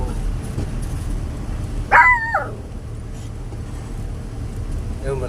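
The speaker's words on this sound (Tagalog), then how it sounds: "Ayun, malaking aso." A single short bark or yelp from a large dog rings out over a steady background murmur of distant traffic and ambient noise.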